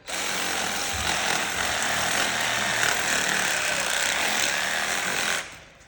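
Reciprocating saw cutting through deer leg bones during field dressing, a loud continuous buzzing rasp close by that runs for several seconds before cutting off.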